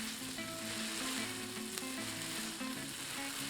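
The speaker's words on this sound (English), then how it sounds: "let's use a tongue to toss and stir everything well" Shrimp pad Thai noodles tossed and stirred with tongs in a hot pan, a steady close sizzle and frying hiss running throughout with soft scraping and stirring movements, no voices.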